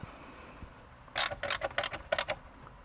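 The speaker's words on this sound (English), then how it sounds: "a 8mm socket and ratchet. And then let's go ahead and slip it in and just tighten it right back up right after" An 8mm socket on a ratchet tightens a bolt during a Toyota Prius amplifier install, giving a close run of about seven quick, crisp ratcheting clicks in short bursts after a quiet pause.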